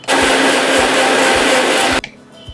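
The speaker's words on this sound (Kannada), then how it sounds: "ಈ ಸ್ವಲ್ಪ ನೀರು ಹಾಕ್ಕೊಂಡು ಈಗ ನಾವಿದನ್ನು ಮಿಕ್ಸಿ ಮಾಡ್ಕೊಳ್ಳೋಣ." A mixer grinder whirs loudly and steadily as it blends watermelon and cucumber with lemon juice and a little water, then cuts off abruptly, leaving a faint rattle and quiet room.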